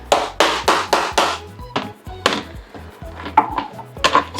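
A knife slices an onion on a board with quick, evenly spaced chops, then slower, irregular cuts. The strikes are close and crisp, and no one talks.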